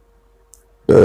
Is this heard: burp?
yes